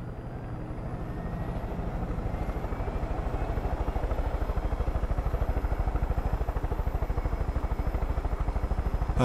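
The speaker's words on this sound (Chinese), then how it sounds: "游戏送了这一台直升机" A helicopter in the video game Far Cry 5 thumps with steady, rapid rotor beats and an engine whine that grows louder and holds close, with no talking.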